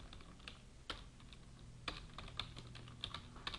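Typing on a computer keyboard, a quiet run of close, irregular key clicks with a few sharper taps standing out.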